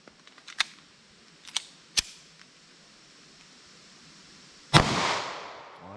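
Sharp pistol shots from a .380 ACP or .32 H&R Magnum handgun at an outdoor range, several quick cracks and one later louder report followed by a decaying echo.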